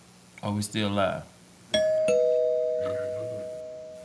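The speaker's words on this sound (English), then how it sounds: "that was the doorbell." A two-tone doorbell chime rings once, loud and close, its second tone ringing out and slowly fading, following a few words of casual talk from women on a podcast.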